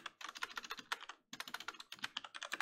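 Rapid typing on a computer keyboard, with dense runs of close, crisp key clicks, a short pause just past the midpoint, then more steady keystrokes.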